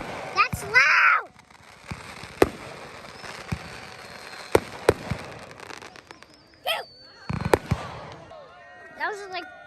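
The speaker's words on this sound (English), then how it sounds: "That was like one big firework." Fourth of July fireworks burst in a series of sharp, loud bangs spaced a second or two apart, with crackling tails and whistles, while a person talks and exclaims between the blasts.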